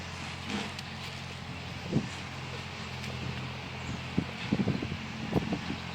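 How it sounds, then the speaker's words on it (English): Strong outdoor wind buffets the microphone in a steady rumbling roar near a pasture with steers, with scattered thumps and rustles and no clear speech. "Sorry about the wind, it is blowing like crazy."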